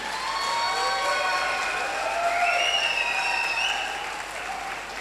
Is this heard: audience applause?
yes